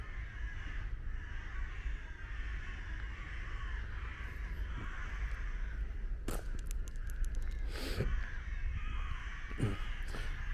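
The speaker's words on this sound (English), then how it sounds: "Sounds like some seagulls going" Harsh calls from several gulls overhead, scattered short cries at a moderate distance over a steady outdoor background rumble, with a couple of sharper, louder calls near the end.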